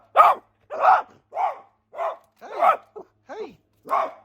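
A dog barks eight times in steady succession, close and loud, each bark short and sharp with brief gaps between, no other sound around it.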